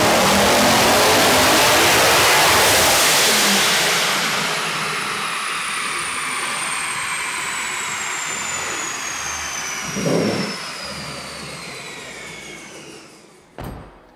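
Procharged Mustang making around 1,000 horsepower, held at full throttle on a dyno, a loud rising supercharger whine and engine roar that gradually fades, with a sharp thump near the end.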